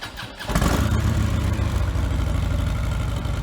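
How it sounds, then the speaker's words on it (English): A Harley-Davidson Street Glide V-twin with stock air cleaner, exhaust and mufflers fires up and settles into a loud, deep, uneven lumpy idle, close by, with no talking. "I've always loved that traditional Harley sound, the potato."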